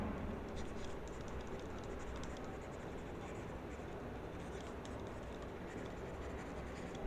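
Pen or pencil scratching out an enthalpy balance by hand for a chemical engineering heat transfer problem, a steady close scratchy writing sound running throughout over a constant background hiss.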